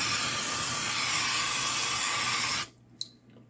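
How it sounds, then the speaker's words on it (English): An oil mister sprays avocado oil in a steady, hissing spray for a couple of seconds, close by, then cuts off abruptly, leaving near silence with a small click afterward. "Put your oil in here and you pump it to give it air pressure, and then it sprays out"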